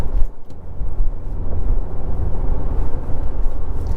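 A Subaru Crosstrek accelerates around a corner, its engine giving a loud, steady low rumble with road and wind noise heard from inside the cabin.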